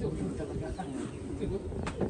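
Soft racing pigeon cooing close by inside a loft, low throaty murmurs repeating over a couple of seconds, with faint voices in the background.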